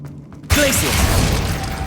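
Glacius, an ice spell in the video game Hogwarts Legacy, hits with an abrupt crackling blast midway, followed by a bright, shattering, icy rush with glassy ringing tones that holds loud to the end.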